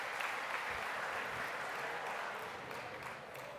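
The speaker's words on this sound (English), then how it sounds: "Can we get a round of applause for our catering and food services team?" Conference audience at a meal applauding the catering and food services team, a soft, steady, continuous roar of many clapping hands heard from some distance, fading slightly near the end.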